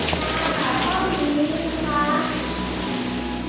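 Rain falling outdoors at the Golden Mount temple museum in Bangkok, a steady hiss of drops on surfaces with voices talking faintly underneath.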